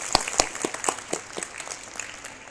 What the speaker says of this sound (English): So let's put our hands together and give them a big round of applause.